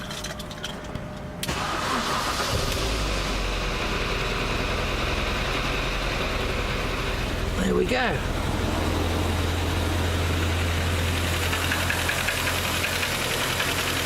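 A 2006 MINI engine, just after a cylinder head reinstall, cranks and fires, then runs with a rough, ticking clatter; someone speaks briefly over the steady running engine.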